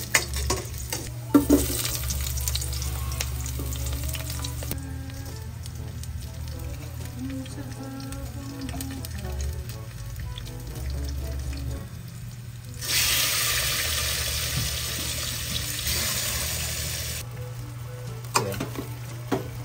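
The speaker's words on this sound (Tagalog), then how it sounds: "Isa po natin yung sibuyas at bawang." Onion and garlic sauté in a pan for pork sinigang, giving a steady sizzle with stirring scrapes over a constant low hum. Running tap water joins for a stretch near the middle.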